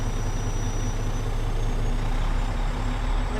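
Steady, loud diesel drone from a truck idling and given a little throttle to build air pressure during a daily trip inspection, a constant low rumble with a faint high whine and no voices.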